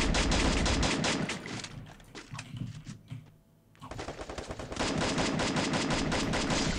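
Emulated video game gunfire rattles in fast, loud automatic bursts, easing off into scattered shots and a short lull midway before the heavy volley resumes to the end.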